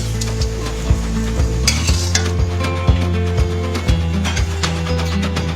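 Fresh clams stir-fry in a wok with Chinese basil, soy sauce and rice wine, a continuous close sizzle broken by regular scraping and clanking of the utensil against the pan, with no talking.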